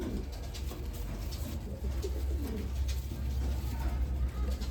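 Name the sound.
pigeons cooing in a cage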